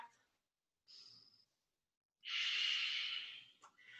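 Slow, close breathing while holding a forearm plank in a vinyasa yoga class: a short breath, a pause, then a long, strong exhale, with no talking.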